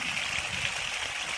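Water gushes steadily from a farm pump set, a continuous close rushing splash with no talk.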